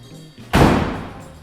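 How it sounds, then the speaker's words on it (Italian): A single solid slam of a Lancia car door shutting lands sharply after a quiet moment and decays with a dull low boom. "chiudi lo sportello, senti se fa boom"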